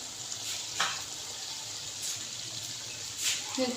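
Green chillies dropped into hot oil for keema produce a steady, close frying sizzle, with brief splashy crackles as they hit the pan and are stirred.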